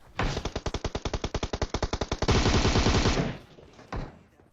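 Automatic weapon fire in the mobile shooter PUBG Mobile: a rapid, regular burst of loud close shots that merges into a dense continuous roar, then a single later report, with no talking.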